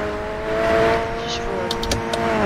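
A Dodge Charger driving in a Roblox roleplay game: a steady synthetic engine drone with layered tones that shift slightly in pitch, with a few short clicks near the end.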